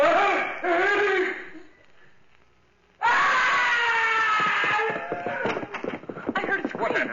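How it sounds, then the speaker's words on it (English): A creature in a radio drama lets out loud, shrill screams in two bursts separated by a brief lull, the second longer and more ragged. "heard it scream"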